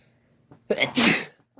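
A man sneezes once, a sharp close-up burst with a short breath drawn just before it, followed by a quiet moment.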